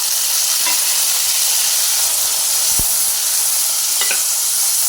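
Tomatoes hit a pan of hot oil already holding browned curry leaves, a loud continuous sizzle with a couple of brief utensil taps.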